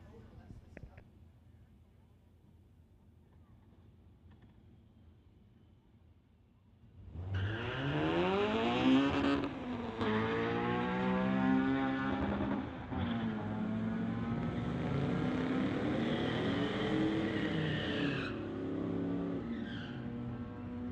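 A 2003 Ford and a Honda street car launch in a drag race at a strip, shattering a quiet wait with a sudden loud engine roar. Revs climb and drop through gear changes, and voices speak beneath the noise.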